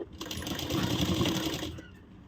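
A sewing machine runs in one steady burst of about a second and a half, stitching the side seam of a blouse, close and clear with no talking.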